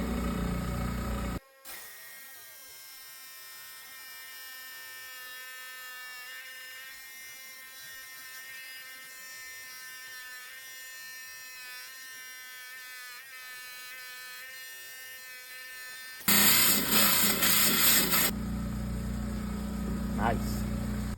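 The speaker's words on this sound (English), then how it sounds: "For that we'll be using the high-tech 10-inch saw." A 10-inch rock saw cuts through picture jasper with a steady whining drone and harmonic ringing for about fifteen seconds, fairly faint, before a louder burst of broadband noise near the end.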